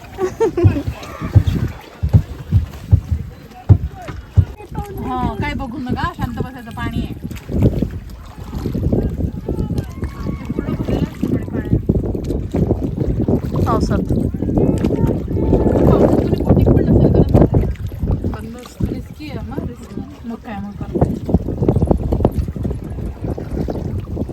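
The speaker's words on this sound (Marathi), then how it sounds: "लाडू बोट राईड चालू झाली आमची एवढे पॅसेंजर आहेत आमच्या बोटमध्ये" Out on the water during a passenger boat ride, the hull rumbles and splashes while wind buffets the microphone, and people talk over it throughout.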